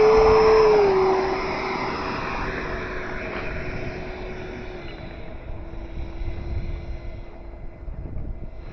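A Freewing Avanti S V2 RC electric jet taxis on the ground, its ducted fan whining loud at first, then dropping to a lower, steady hum that fades over several seconds against wind noise.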